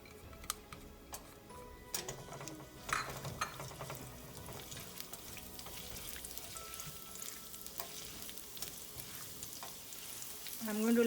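Ginger and chili frying in olive oil in a pan for a spinach and tofu curry, a soft, steady sizzle with faint ticks and stirring clicks, quiet and close, rising slightly at the end.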